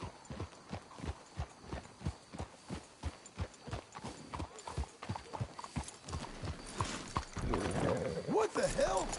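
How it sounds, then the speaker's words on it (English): Horses' hooves clip-clop in the Red Dead Redemption 2 video game, a regular rhythm of close, distinct hoofbeats that slows and grows busier near the end, with other game noise building under it. "Let's hitch your horses up ahead."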